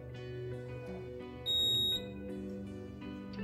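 An ESP32-driven 8x24 LED matrix subscriber counter gives a single sharp electronic beep, clear and piercing, lasting about half a second over a background of steady tonal hum.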